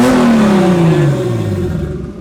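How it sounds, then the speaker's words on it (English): Toyota JZ engine on a car with heat wrap and no idle air control, revved then settling as the pitch falls smoothly and the idle dips low before catching, loud and close. "JZs are crazy. Like, they grab idle like this."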